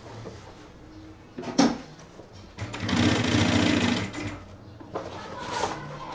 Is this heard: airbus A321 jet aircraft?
no